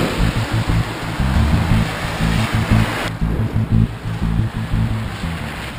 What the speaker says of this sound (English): The heavens have opened. It's really rainy.